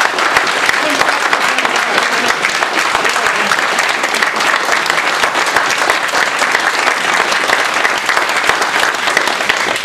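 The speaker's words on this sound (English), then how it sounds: "I think we need to give her and the CAL FIRE team a round of applause." Dense, loud applause from a town hall audience at a farewell event for a state senator, honoring a CAL FIRE team, sustained clapping at an even level for about ten seconds.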